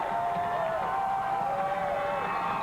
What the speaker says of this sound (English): Listen to the crowd here in Clarksdale as the Wildcat sideline is